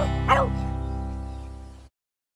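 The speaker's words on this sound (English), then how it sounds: "Oh look, some of my dog friends came to help me say goodbye." A dog lets out a single bark-like yelp close up over a steady droning low tone that fades and then cuts out, leaving silence.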